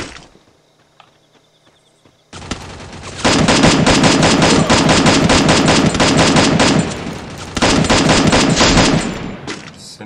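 Dense automatic gunfire from the battle royale game Free Fire bursts in after a quiet opening, rapid loud volleys pounding on with only a short dip before resuming.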